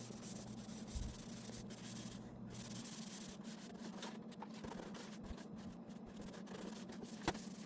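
Steady rubbing of a Scrub Daddy sponge with Pine Sol and water over grimy garage panels, a continuous close scrubbing texture with a constant low hum running underneath and one sharp knock near the end.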